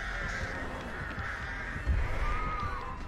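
A crow caws repeatedly in the horror game Dead by Daylight, harsh steady calls over a continuous ambient drone, fairly loud and close.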